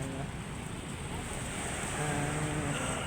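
Steady wash of surf rolling onto a shore, with constant wind rumble; no talking.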